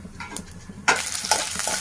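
Mustard, cumin and fenugreek seeds hit hot oil in a pan for tempering, turning a quieter background into a sudden loud burst of sizzling and spluttering with a few crackling pops.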